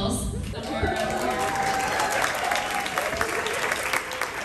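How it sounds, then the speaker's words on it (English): A room full of people at a puzzle convention applauds and cheers, giving a dense, sustained wash of clapping mixed with crowd voices throughout. "It is so strange to be in a real life room and hear people cheering for me."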